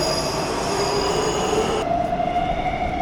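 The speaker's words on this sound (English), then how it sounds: "Because the train was very loud." A Warsaw metro train passes loudly and close by, its wheels squealing in a steady high screech over continuous rail rumble throughout.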